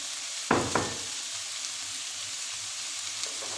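Continuous bright sizzle of bell pepper frying in a pan for vegetarian chilli con carne with potato, with two quick utensil knocks near the start over the steady hiss.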